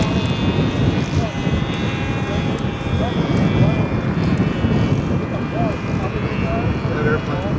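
A small model airplane propeller engine drones steadily throughout, a continuous buzzing whine with wind rumble, close to the microphone.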